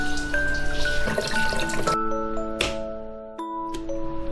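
Goji berries rinsed in clean water in a kitchen bowl, with dripping and trickling water and a few light clinks of berries and bowl, close and moderately loud, alone without talk.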